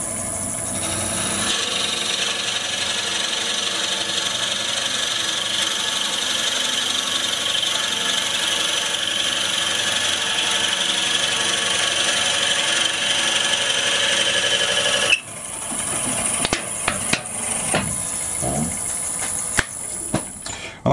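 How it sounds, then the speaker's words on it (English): A steady mechanical whir of a lathe with a drill biting into wood for about fifteen seconds, then the machine stops, leaving scattered handling knocks and clicks. "Just going to hold the chuck as I drill and just very gently go in."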